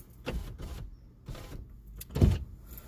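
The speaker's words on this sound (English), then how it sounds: "I'm just going to close these windows so we can get less traffic noise." Indoors, windows are slid shut to cut traffic noise, giving several short scraping and sliding bursts with a louder thump near the end, separated by quiet pauses.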